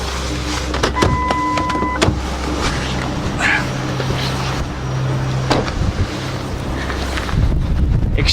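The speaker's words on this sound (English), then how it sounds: "Extreme wind gusts right now" Extreme winter storm wind gusts buffet a vehicle in a loud, continuous roar with rumbling microphone buffeting, swelling near the end.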